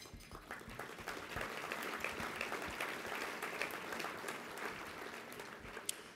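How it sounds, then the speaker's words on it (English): Gala audience applause, steady and moderately distant, with continuous clapping for the whole stretch. "Give yourselves a round of applause for all that you've done tonight"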